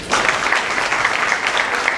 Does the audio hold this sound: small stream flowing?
no